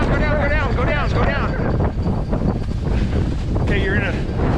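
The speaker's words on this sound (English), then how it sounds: "It's really windy." Strong outdoor wind buffets the microphone in Colorado with constant loud rumbling roar throughout, while voices talk and shout over it.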